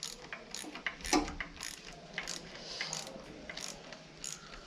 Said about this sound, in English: make sure it's right in the center of the silver washer and tighten it up